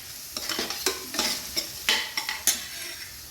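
A spatula scrapes and taps repeatedly against a pan as onions, chillies and turmeric are stirred, with a light sizzle beneath the quick, irregular strokes.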